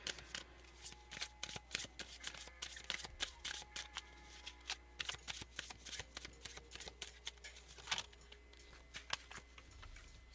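Tarot cards are shuffled close up in rapid, papery riffles and snaps, repeating steadily through the stretch with no voices.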